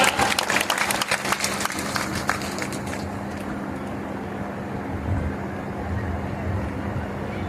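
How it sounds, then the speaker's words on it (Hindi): An audience at a women's conference applauds the deputy chief minister's welcome. The dense, steady clapping starts strong, fades to a softer, sustained rumble of hands and crowd noise, and carries on throughout. "जोरदार तालियों की गड़गड़ाहट के साथ।"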